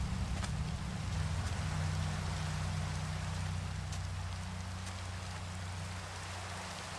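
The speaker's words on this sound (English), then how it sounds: "It's raining." Steady rain falling in the Minecraft video game, a constant dense hiss of raindrops with low droning tones underneath, even and uninterrupted.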